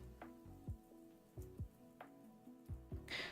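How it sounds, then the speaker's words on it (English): Soft rain patters in a ranch-building video game, heard quietly alongside faint rhythmic clunks and tones from the game, with no voices. "It's about to start raining again. The game is making that noise."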